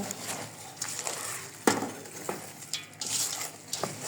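Khichuri ingredients with potato are mixed by hand in mustard oil, producing close, wet squelching and rubbing sounds with occasional knocks against the bowl.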